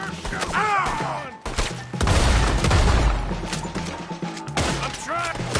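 Shots and heavy booms ring out during a wagon shootout with the law in Red Dead Redemption 2, loud and irregular, mixed with shouting voices and game effects.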